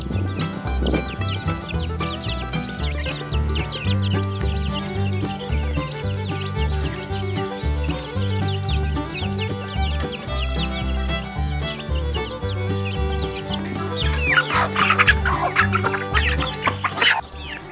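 Chickens cluck in a farm paddock under steady background music, with the clucking strongest near the end.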